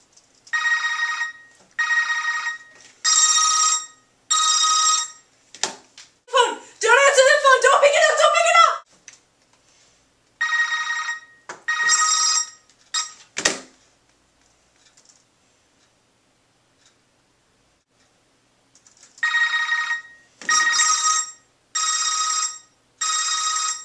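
A telephone rings in repeated double bursts during a horror movie, with a gap of loud screaming and clatter between the rings and more rings returning near the end.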